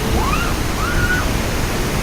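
Water from a fountain at a river rapids ride rushes in a loud, steady roar that fills the whole clip, with faint whistling tones drifting over it briefly and no speech.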